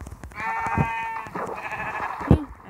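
A Minecraft sheep bleats in a long, wavering, nasal cry, then a short thump and a second brief bleat follow, close and clear with no talk.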